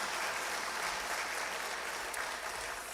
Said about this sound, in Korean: 환영의 박수로 축하하겠습니다